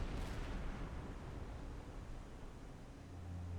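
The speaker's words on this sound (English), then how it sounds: "And we are just blowing through the high explosives now." Heavy, continuous rumbling barrage of high-explosive deck gun fire against a burning ship in the Silent Hunter 5 submarine game, with an initial blast blending into a dense, steady roar of explosions and fire.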